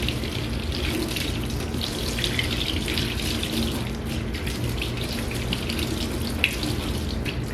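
Steady water runs from a tap into a sink while makeup brushes are rinsed clean of foundation, concealer and soap, a continuous close gushing splash with no talking.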